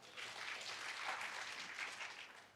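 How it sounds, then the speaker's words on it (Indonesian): A church congregation claps in praise during an online worship service in Surabaya, a soft continuous patter of many hands at a steady moderate level. "Kasih tepuk tangan bagi Tuhan."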